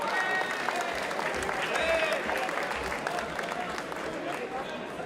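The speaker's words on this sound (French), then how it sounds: "je vous demande d'applaudir à nouveau Gerardo Melado" An audience at a boxing event applauds a boxer, sustained clapping from a sizeable crowd that swells early and slowly eases off, with an announcer's voice running over it.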